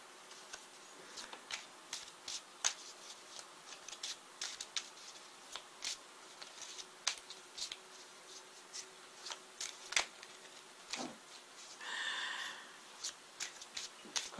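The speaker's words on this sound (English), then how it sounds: "let's pick clarifying cards for these." Tarot cards are shuffled quietly by hand, a run of soft irregular riffling taps and flicks with a brief rustling swish near the end, close and faint with no talk.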